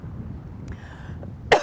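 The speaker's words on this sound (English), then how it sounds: "I just knew I was going to start coughing." A woman gives a single short, sharp cough at the very end, after a stretch of quiet outdoor breeze noise.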